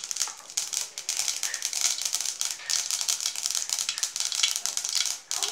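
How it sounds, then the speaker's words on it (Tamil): Mustard seeds spluttering in hot cooking oil in a pan, a dense, continuous crackle of rapid pops and sizzles, loud and close throughout. "கடுகு பொரியட்டும் கொஞ்சம்."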